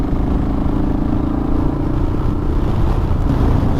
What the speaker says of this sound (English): this is a noisy bike too. It's got a noisy muffler, or more noisy than standard, and it's a thumper, and it's a KLR, so it's rattly